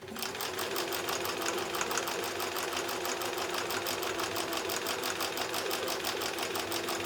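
A sewing machine stitching the end of a quarter-inch seam on a mini mosaic quilt and running on into a thread saver, a continuous rapid needle chatter with a steady motor hum, close and alone.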